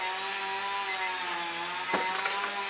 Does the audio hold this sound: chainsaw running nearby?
yes